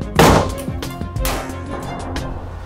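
A rifle fires a 7.62x39mm Russian mild steel core round into a Level III+ rifle plate on a test range: one sharp, loud close crack, then a second thud and a reverberant tail fading out.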